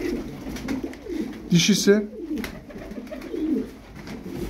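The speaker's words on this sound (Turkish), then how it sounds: "Bir takım hünkari var burada." Hünkari tumbler pigeons coo in soft, low bursts close by, with someone speaking over and between the calls.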